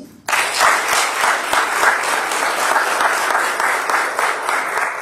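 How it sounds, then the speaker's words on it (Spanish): A church congregation bursts into loud, sustained applause right after a short quiet opening, dense clapping holding steady and close for several seconds. "¿Puedes darse un aplauso,"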